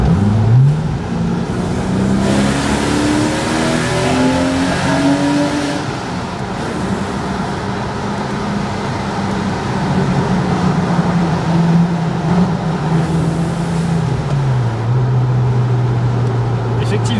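A Porsche 986 Boxster engine revs up through rising pitch sweeps, falls back and settles into a steady idle-like hum, heard from close by under constant road-like noise.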